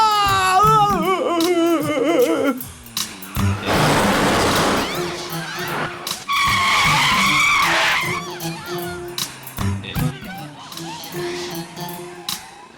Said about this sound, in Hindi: रोको रोको गाड़ी को।